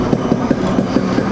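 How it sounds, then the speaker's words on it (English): An original Yamaha RX100 motorcycle with a 6-hole silencer runs close by, its exhaust putting out a steady, loud, evenly pulsing beat with no voices over it. "That is the exhaust note of an original RX100 with a 6-hole silencer."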